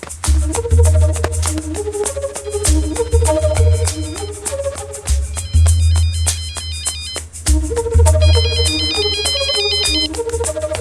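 A mobile phone ringtone plays loudly, a repeating electronic melody cycling through several phrases with no one speaking.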